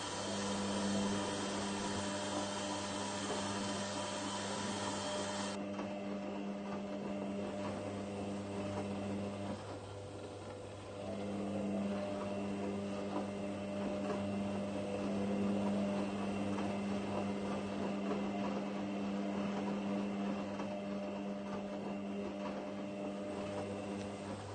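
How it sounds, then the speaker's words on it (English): Washing machines in the Roblox game Washer Central, one on first rinse and one on main wash, giving a continuous steady mechanical hum and whir with tonal drone, slight dip midway, no talking. "the WM63 is on first rinse. And this is still on main wash."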